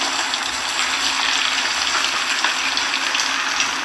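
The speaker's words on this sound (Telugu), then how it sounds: "వేడైన తర్వాత చికెన్ పీసెస్ ఒక్కొక్క పీసు ఒక్కొక్కసారి వేసుకోవాలి" Chicken pakoda pieces fry in hot oil over a medium-low flame, making a steady, dense sizzle and crackle that carries on unbroken throughout.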